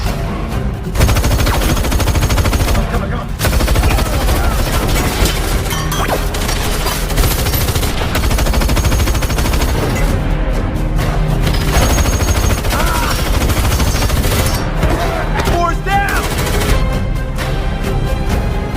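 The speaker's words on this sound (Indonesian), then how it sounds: "Boy pun tewas ditembak Bullet" Dense, loud bursts of gunfire and crashes from the film Wrath of Man fill the whole stretch, continuous and chaotic like a movie action scene, with no clear pauses.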